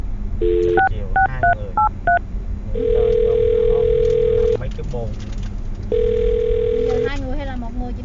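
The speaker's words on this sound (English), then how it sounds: "I'm going to dial her phone number right now" A phone number is dialed as a string of distinct touch-tone beeps, followed by long steady ring tones with a pause between, loud and close, with faint voices in the background.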